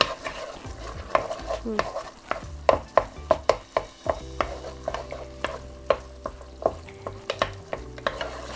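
Coconut milk and curry paste stir-fried in oil for beef panang, with rhythmic spatula taps and scrapes against the pan repeating about every half second over a low bubbling sizzle, close and clear.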